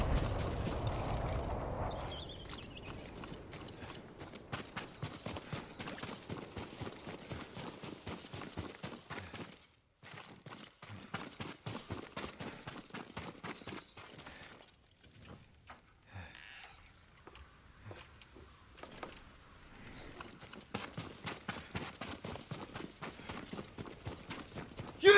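Horse hooves in the game Ghost of Tsushima, a long run of rapid, soft rhythmic clip-clopping steps close by, briefly pausing near the middle before resuming at a steady pace.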